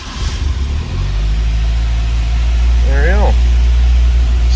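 A 1973 Opel GT with a carburetor cold-starting: the engine catches and settles into a loud, steady low idle, with a man's short remark partway through.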